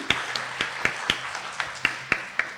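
Sparse, spaced hand claps from a conference audience ring out in a hall, about nine distinct sharp claps at a slow irregular rhythm, fairly faint and reverberant, with no talking.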